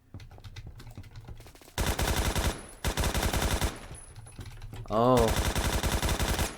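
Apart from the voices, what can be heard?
AK-12 rifle gunfire in video game Phantom Forces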